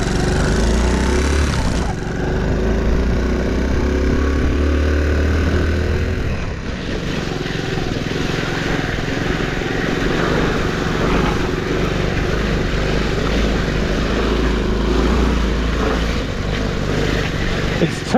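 A Honda C90 Cub motorcycle engine runs steadily while the bike is ridden off-road on slippery chalky mud in Wiltshire, loud and close, with a shift in tone about two seconds in.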